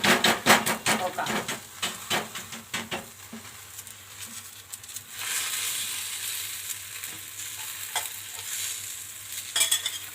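Maharashtrian dhapate flatbread frying on a pan as oil is poured around its edges, a run of sharp taps and pats giving way to a loud, steady sizzle with a few more clicks near the end.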